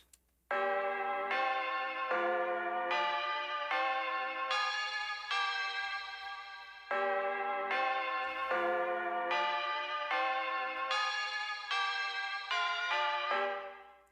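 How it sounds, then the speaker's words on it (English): A bell-like one-shot sample in FL Studio plays a stepwise trap-beat melody, one clear struck note after another with a short pause midway, each note ringing bright and close. "This I think is a bell or piano or something like that"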